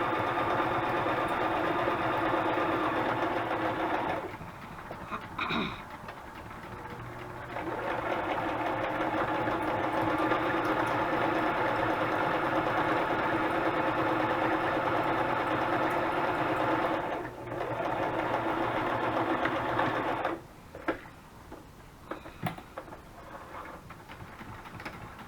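A sewing machine stitches onto a paper pocket for a junk journal collage, running in long steady droning bursts with a few short pauses between them, close and moderately quiet.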